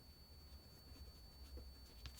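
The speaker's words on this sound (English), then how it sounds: "I'm going to write feeling bad." A pen writes on a card in a quiet room, giving faint soft scratching strokes close by.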